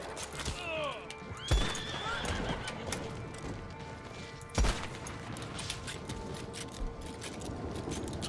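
In the online co-op western game Red Dead Redemption 2, a horse whinnies in distress and dies, with shrill neighs and clip-clop hooves, sharp thuds and gunfire-like bangs amid outdoor ambience.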